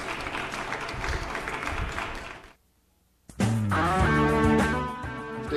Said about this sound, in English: audience, I want to hear more clapping